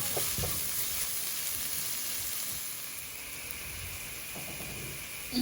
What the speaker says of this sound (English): Look at that, sizzling away